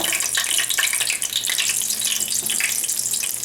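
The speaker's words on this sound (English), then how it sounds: "excuse that crisping sound. I think my spatula has a little water in it." Trinidad fry bakes crackle and sizzle in hot oil as they are turned in the pan, a busy spattering hiss with sharp pops, loud and close, with water on the spatula adding to the spitting.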